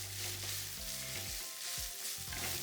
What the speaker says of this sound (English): I'm stirring because I don't want that garlic and ginger to burn